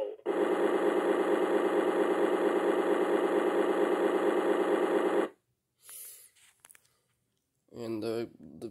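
A Road Rippers Ford Bronco concept toy plays a loud, steady engine idle with rumbling, buzzing sound effects for about five seconds, then stops, followed by brief faint clicks and a short burst of a recorded voice.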